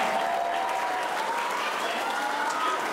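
An audience applauds at a public recitation and examination of classical Islamic jurisprudence texts by Islamic boarding-school students, the clapping dense, even and sustained throughout, fairly loud, with no one speaking over it.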